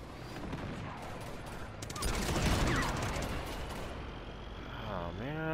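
Gunfire and rocket blasts in the action video game Uncharted 2, a dense rattling burst of shots swelling into a louder explosive rush, with game engine and effect noise throughout.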